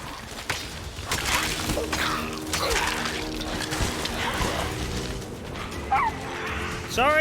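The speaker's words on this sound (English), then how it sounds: "that's my dog." A dog in a room barks and yips repeatedly, close and fairly loud, with short whimpers, over game sound effects.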